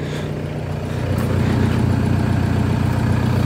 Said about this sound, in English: As you can hear, she's running